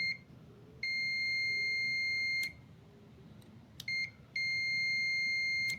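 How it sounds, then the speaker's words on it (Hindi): A digital multimeter beeps during continuity testing of a microwave oven door switch, giving a steady high-pitched tone that holds for over a second, drops out, then returns in shorter and longer bursts as the probes make and break contact. "बीप की आवाज़ आएगी आपको, यहाँ को रीडिंग आएगी।"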